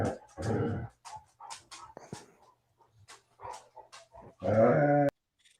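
Hound dogs bark and bay in a series of loud, close outbursts separated by short pauses, ending with a long, full howl-like bark.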